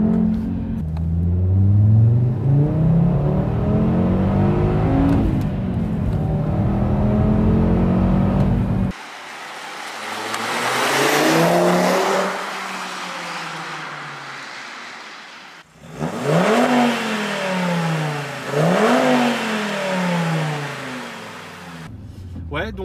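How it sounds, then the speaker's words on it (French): An Audi TT RS accelerates hard through several gears, the engine rising in pitch with each pull and dropping at every shift, loud and close from inside the car, while someone talks over it. "Là je vais accélérer, c'est de la folie"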